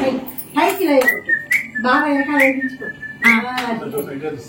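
A bright, melodic whistle in short phrases with brief breaks, close and clear, over low background noise.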